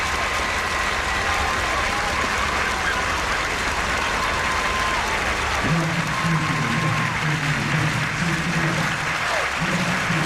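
Steady applause from a large audience at Singapore's 2003 National Day Parade, loud and continuous throughout, with a low engine-like drone and tonal sounds entering partway through.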